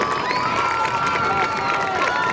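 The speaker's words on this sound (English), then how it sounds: "another round of applause for our 2013 Senior Football Tournament" Crowd cheering and clapping for the 2013 senior football tournament at a Houston County vs Ashford high school game, loud and sustained, with shouts over steady noise.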